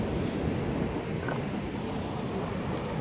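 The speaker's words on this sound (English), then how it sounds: "All this water running out of here." Water from the Severn Tunnel pours out beside an old brick pier at Sudbrook on a muddy shoreline, making a steady, even, broad rushing wash with no voices.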